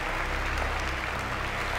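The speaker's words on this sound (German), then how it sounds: "Applaus." Applause rings out inside a video game, an even wash of clapping from a crowd that holds steady at moderate volume for under two seconds.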